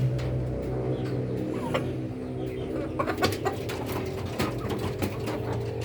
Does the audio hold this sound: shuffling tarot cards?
no